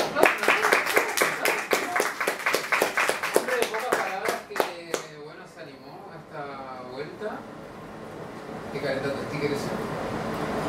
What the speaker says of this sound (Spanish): le voy a pedir que le den un aplauso a Matías